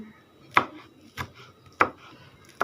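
A knife chops greens on a cutting board in four sharp, evenly spaced strikes, each a distinct close thud with a short crisp edge, and only faint room noise between them.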